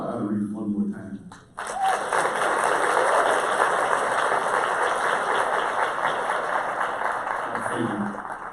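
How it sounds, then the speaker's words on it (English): Luncheon audience applauding award honorees at a children's charity event, a brief voice giving way to sustained, loud crowd clapping that holds steady for several seconds before tapering as talk resumes. "Can we applaud our honorees one more time?"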